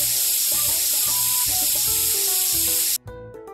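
A medical spray from a cartoon hospital game sprays in a steady, loud hiss over bright game music, then cuts off sharply near the end.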